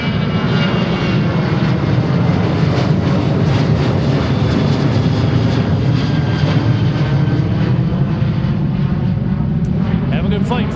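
Alaska Airlines jet airliner on its takeoff roll from runway 34R at Seattle-Tacoma airport, a loud, sustained engine roar that holds steady throughout, with faint radio speech beneath.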